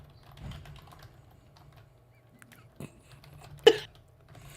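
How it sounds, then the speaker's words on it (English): A computer keyboard is typed on in sparse, quiet clicks and taps, a few louder isolated knocks standing out against a soft low background hum. "I'm getting a furious typing response"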